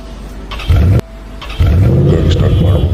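Vehicle engine starting as a story sound effect: a click, a short loud crank, a break, then the engine catching and settling into a loud steady idle.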